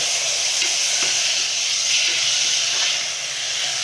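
Masoor lentils frying in a pan with a little oil for khichdi give a steady, close sizzling hiss with faint stirring clicks throughout, no voices.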